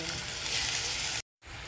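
Onions frying in a pan for chicken biryani make a steady, close, loud broadband sizzle with no talking, cut off by a short silent gap before the sizzle resumes.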